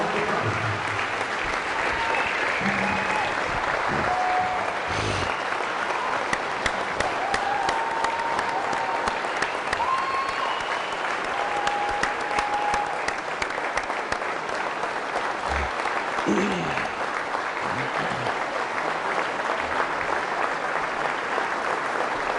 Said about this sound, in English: Nice applause here for Jim Bajoli and his son Kevin.